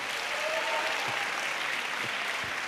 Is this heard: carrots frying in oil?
no